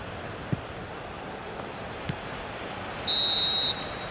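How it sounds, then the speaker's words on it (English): A referee's final whistle in the eFootball PES 2021 football game sounds as one loud, shrill blast lasting under a second over steady crowd noise. "And there goes the final whistle."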